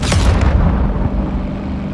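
Air support missile strike explosions in Call of Duty: Modern Warfare II, a loud, heavy boom with rumbling low-end roll and debris that fades over about two seconds, with no speech.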